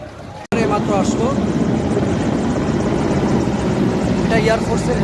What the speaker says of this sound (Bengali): এটা এয়ারফোর্সের হেলিকপ্টার।